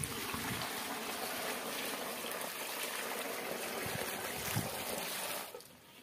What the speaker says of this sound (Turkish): Şimdi üzerine su dökeceğiz.